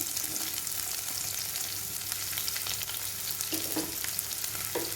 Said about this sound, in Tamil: இது கூட கட் பண்ணி வச்சுருந்த ஆனியன் ஆட் பண்ணிக்கிறேன்